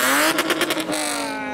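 Turbocharged Mazda MX-5 at a large JDM car show, a short loud engine note breaking into a rapid fluttering chatter of turbo flutter, close and brief.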